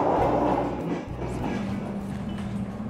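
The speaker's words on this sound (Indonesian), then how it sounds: "Kereta Argo Wilis meninggalkan stasiun Mojokerto sebelum nanti kita tiba di tujuan akhir perjalanan hari ini" Argo Wilis passenger train pulling out of Mojokerto station, heard from on board as a steady low rumble of wheels and carriages with faint rhythmic clatter, loud and continuous.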